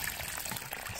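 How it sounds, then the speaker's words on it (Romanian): Water poured from a bucket onto the soil around a newly planted almond tree, a short, steady, faint splashing pour with no talk. "am să pun o găleată de apă, să mă asigur că e multă umezeală"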